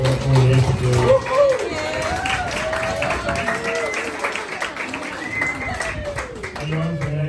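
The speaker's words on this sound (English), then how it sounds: "give Julie one big massive round of applause to say thank you for all the effort, Julie" A large audience at an automotive training event applauds Julie, a broad wash of clapping running steadily throughout while voices carry on over it.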